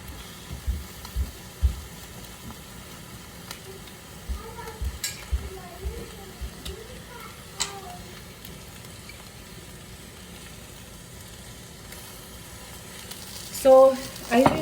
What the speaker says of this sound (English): here I just have some spinach here heating up on the pan, and I'm gonna add some olive oil